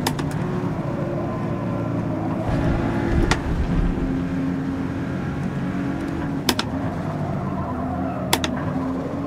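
A damaged Audi RS5 engine in Forza Motorsport drones at a steady, strained pitch without climbing, the car no longer accelerating, with a few sharp clacks and bumps cutting through the continuous loud hum.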